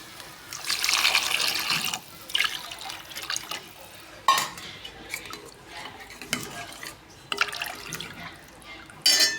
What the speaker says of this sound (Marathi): तर पाणी टाकू